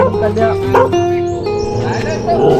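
A large dog barks and yips repeatedly at close range, mixed in with overlapping voices talking.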